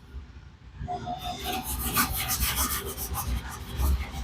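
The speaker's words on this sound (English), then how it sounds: "Then I get my scrub." A scrub brush works over the inside of a laundromat dryer, giving a continuous close, rough scratching and rubbing with a slight rhythmic pulse, heard on its own without talk.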